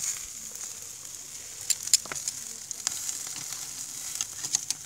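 Sausages sizzle on a barbecue grill in Corsica, a steady faint hiss with scattered sharp crackles and pops, heard up close with no talking.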